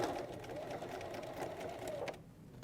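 Sewing machine stitches trim onto a table runner in a quiet, steady, rapid whir close by that stops abruptly near the end.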